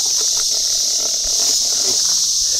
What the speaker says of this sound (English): We've got 4 cicadas. Oh, they're loud.